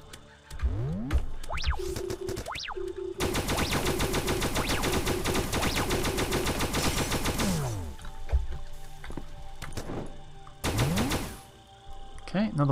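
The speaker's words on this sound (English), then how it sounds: "Let's try this gun." A weapon fires in the space game Starbound, with a long sustained burst of rapid shots flanked by shorter volleys and springy, boing-like sweeping effects, while a player talks over parts of it.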